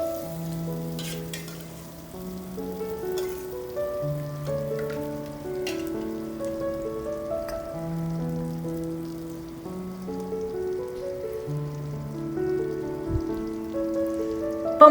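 Steady crackling sizzle of an eggplant mixture frying in hot oil for brinjal pickle, with gentle tones from background music running beneath.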